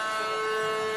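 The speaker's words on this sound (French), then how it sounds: "la sirène qui retentit dans l'Altrad Stadium" Stadium siren at Montpellier's Altrad Stadium marking half-time in a rugby match against Toulon, a loud, steady, sustained wail filling the whole moment, no voices.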